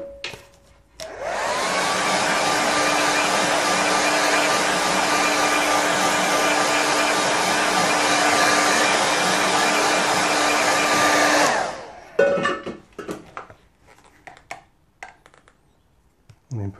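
A hair dryer blows steadily on a watercolour painting for about ten seconds, a loud, even whoosh with a constant whine that cuts off abruptly and leaves faint handling noises behind.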